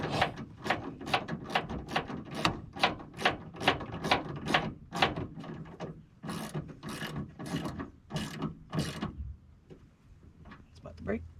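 Wrench ratcheting as a bolt is loosened on a Ford 300 straight six engine in a 1993 Ford F150: a steady run of close, sharp clicks in regular strokes, thinning out toward the end with talk in between.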